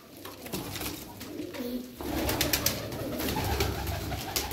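Several Çorum Çıplağı tumbler pigeons cooing close by in a loft, soft throaty rolling coos that repeat and overlap against a busy background of other bird sounds.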